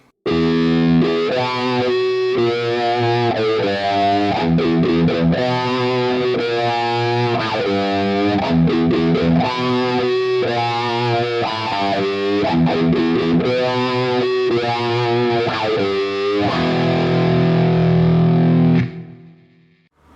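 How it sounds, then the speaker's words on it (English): A riff played on a distorted electric guitar through a wah pedal, loud and continuous with a steady rhythmic pulse of chugging notes, ending in a sustained chord that cuts off. "with the wah pedal, it's gonna go like this"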